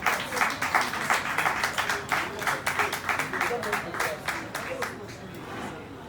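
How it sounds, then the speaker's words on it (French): Applause from a concert audience for a performance at the Institut français de Ouagadougou in 2021, with dense rapid clapping that stays steady and full, then thins and fades toward the end. "Merci de les applaudir une fois de plus"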